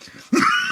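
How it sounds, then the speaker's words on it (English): One sudden harsh cough from a person bursts out loud and close after a brief quiet moment. "All of a sudden, I just got this bad cough"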